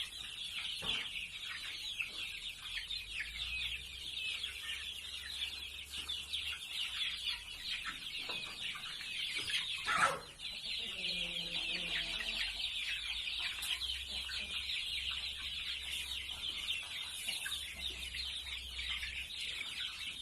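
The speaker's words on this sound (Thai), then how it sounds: "อันนี้ไก่สองร้อยตัวนะครับ" A flock of about two hundred one-month-old native chickens clucks and chatters steadily at a distance over a constant hum, with a brief louder bump partway through.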